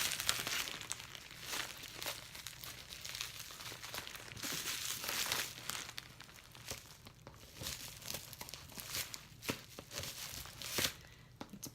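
Continuous crinkling and crumpling of bubble wrap packaging around a diamond painting kit, with irregular rustles and tearing sounds close by.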